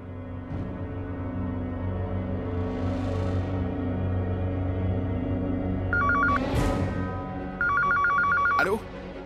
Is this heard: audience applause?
no